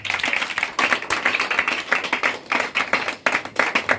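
A church congregation claps in rhythm to acclaim God during a French-language worship service, producing a steady run of sharp, fairly loud hand claps in a regular beat with no talking over them.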